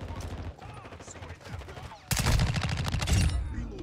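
An MCPR-300 sniper rifle fires in a video game, a distant battle crackle of shots first, then a loud close burst of rapid gunfire from the midpoint onward.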